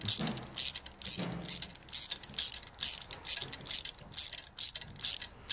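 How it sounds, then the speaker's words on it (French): A ratchet wrench clicks in quick, even bursts while screwing a diesel glow plug into the engine of a Dacia Logan, close and crisp with short pauses between strokes. "Donc on visse la bougie."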